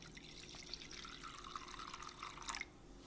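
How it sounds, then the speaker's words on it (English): Kahlua and Vietnamese coffee are poured into a dish for a tiramisu, a faint trickling and splashing stream of liquid that ends abruptly. "I'm gonna put about 2 or 3 ounces of the Kahlua. I'm also gonna put the Vietnamese coffee in here as well."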